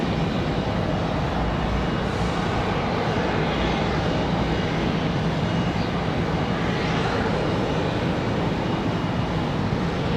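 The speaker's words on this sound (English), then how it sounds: "Nice early rotation for this CRJ." A PSA Airlines CRJ regional jet takes off from Raleigh-Durham in windy conditions, giving a loud, constant engine roar that dominates throughout with gusty noise and no talk.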